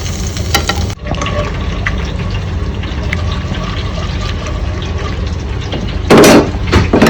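Crushed ginger and garlic sizzle in a hot pot as the base for chicken soup, a loud continuous frying hiss with stirring and clatter, then a brief burst of heavier spatter near the end.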